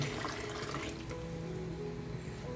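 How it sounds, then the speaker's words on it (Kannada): Water left from boiling horsegram greens pours into a mixer jar with a steady close splashing and gurgling stream, running on evenly throughout with no talking. "ನೆಕ್ಸ್ಟು ನಾವು ಹುರುಳಿಕಾಳು ಸೊಪ್ಪು ಬೇಯಿಸಿದ ನೀರಿತ್ತಲ್ಲ ಆ ನೀರನ್ನು ಕೂಡ ಹಾಕೋಣ"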